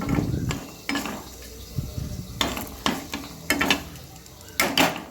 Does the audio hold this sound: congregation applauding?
no